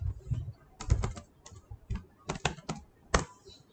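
Someone types a command on a computer keyboard in irregular clusters of clicky keystrokes, close and fairly quiet, with short pauses between bursts.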